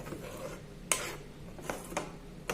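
Spinach cooking in a pan gives a soft, steady sizzle with a few scraping stirs and light utensil taps against the metal, close and fairly quiet.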